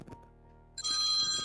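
A telephone bell starts ringing loud and close partway through, a bright continuous trill breaking a near-silent room.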